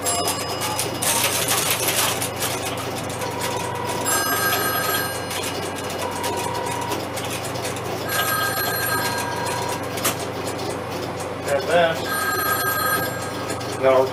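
Electromechanical ring from a 1971 Fujitsu FXB106 crossbar PBX extension, several distinct ringing bursts repeating at steady intervals over a low hum, with someone talking in between.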